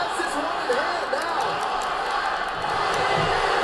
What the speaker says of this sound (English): And the crowd's chanting one more time.